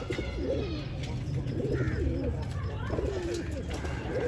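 Pigeons coo repeatedly in soft, rolling phrases close by, over a low steady background hum.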